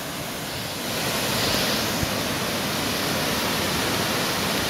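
Barberville Falls on the Poestenkill pours heavily in strong flow, a constant loud broadband rush of falling water close by that swells slightly after the first second and holds steady.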